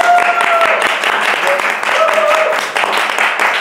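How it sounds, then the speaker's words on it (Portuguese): Studio audience applause greeting a Brazilian variety-style web show host, dense steady clapping filling the whole stretch with whoops and voices mixed in over it. "E pra você, aplausos"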